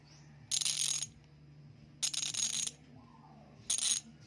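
A Pasak aluminum-alloy bicycle hub with six freewheel pawls, spun in three bursts of loud, rapid ratcheting clicks, each about half a second long, separated by near silence and heard close up.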